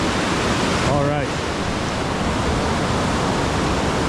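River waterfall at Swallow Falls, Maryland, a loud, steady broadband roar of rushing water filling the whole clip, with a brief faint voice-like sound near the start.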